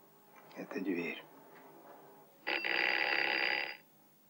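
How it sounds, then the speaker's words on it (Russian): An old telephone rings indoors in a 1965 drama film: one sustained, loud electric bell ring follows a short stretch of speech. "Кажется, телефон."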